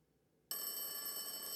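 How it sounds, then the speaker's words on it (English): An old landline telephone rings in an abandoned apartment said to have no power, the bell starting abruptly after a moment of near silence and continuing loud and steady to the end. "Why is the phone ringing right now?"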